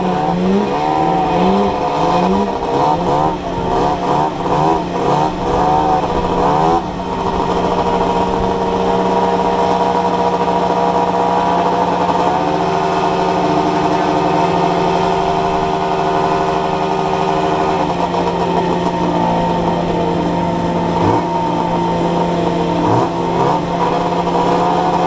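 Racing vehicles' engines roar through a close race, loud and continuous, with repeated rising and falling revs and gear-shift dips early on, then a long sustained high-rpm drone that wavers before climbing again near the end.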